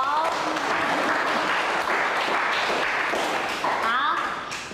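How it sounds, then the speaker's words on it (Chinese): A classroom of students applauding a classmate called up to introduce himself, a continuous, lively round of clapping from many children, loud and close, tapering near the end. "来，大家拍拍手。"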